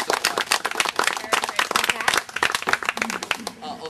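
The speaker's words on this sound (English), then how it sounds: "let's give a round of applause to the County Soil and Water Conservation" A workshop audience at a rain barrel event gives a round of applause, with close, uneven clapping from a modest crowd that tapers off toward the end.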